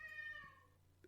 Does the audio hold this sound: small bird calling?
no